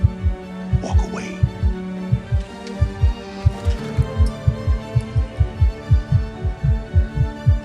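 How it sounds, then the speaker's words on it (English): Heartbeat sound effect in a fast, steady lub-dub rhythm of deep thumps running throughout, loud and close, with a low hum and some faint background sounds. "Why's your heart beating so fast?"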